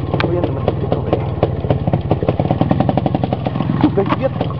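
An IZh motorcycle engine runs in a muddy forest, a close, loud, rapid pulsing putter that holds steady throughout with faint revving variation.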